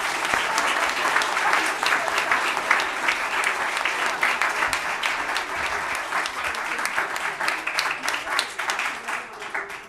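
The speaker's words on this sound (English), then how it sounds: "Everybody, please give them a great big hand clap." An audience at a school district governing board meeting gives a long, sustained round of applause for the custodial staff, many hands clapping in a dense, even wash that holds steady for about ten seconds.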